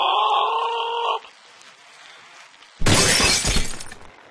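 Glass shatters in the Happy Wheels video game as a single loud crash with a crunchy, scattering tail, coming after a brief tonal electronic sound and a quiet gap.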